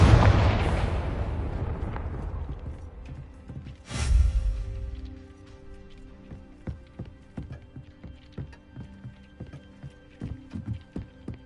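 Confringo fire-blast spell explosions in Hogwarts Legacy: a heavy blast decaying over a few seconds, a second sharp explosive burst, then a scatter of lighter crackling impacts and clattering hits.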